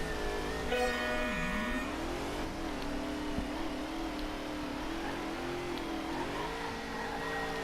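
Nissan Skyline in the Table Top Racing video game, a miniaturized drift car, its engine holding a steady mid-pitched drone with wavering revs throughout, game music layered underneath and no talking.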